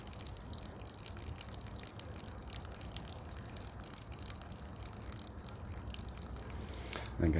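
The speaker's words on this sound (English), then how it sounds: "Okay, still dripping water." Water from a homemade aquarium overflow dribbles and trickles continuously into the tank below, a steady close wash of running liquid that holds its level throughout, with a brief louder thump near the end.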